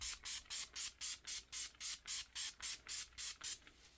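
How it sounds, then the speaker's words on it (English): Alcohol sprayed from a pump bottle onto freshly poured cold process soap, about fourteen short hissing bursts in a quick, even rhythm, close and soft. "I'm going to spray this down with some alcohol"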